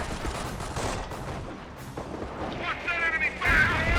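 Artillery barrage in the video game Company of Heroes, a dense rumble of distant blasts and gunfire running throughout, with a voice speaking over the battle noise.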